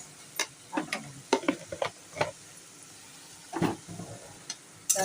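Elephant foot yam and shrimp are stir-fried in a pan: a series of scraping, clattering stirs come in irregular bursts over a low sizzle, with quiet gaps between strokes.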